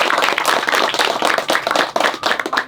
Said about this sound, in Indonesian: Tepuk tangan buat kalian sendiri.